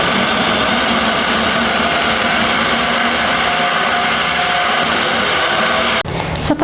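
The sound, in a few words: blender blending mixed ingredients with lemon and fish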